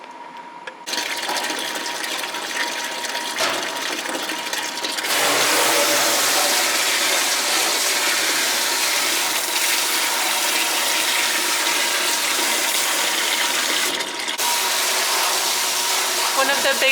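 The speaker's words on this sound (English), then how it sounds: "So this is us cleaning out the canner with hot water." Hot water rushes and sprays steadily into a metal canner pot, rinsing it out, a constant hissing stream that grows louder after a few seconds and continues without pause.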